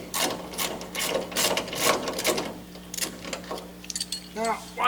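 A ratchet backs out 9/16 tailgate arm bolts on a 1967-72 Chevy or GMC truck, sounding as close, fast clicking bursts with brief pauses between strokes.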